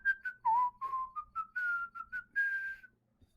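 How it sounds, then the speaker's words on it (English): A person whistles a song alone and close by, with a string of short and held notes that rise and fall in pitch. "It's just me whistling."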